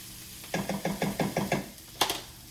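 A spoon stirs pumpkin spice soup with squash in a pot, knocking against the side in a steady run of seven close, even taps, then one more after a short pause.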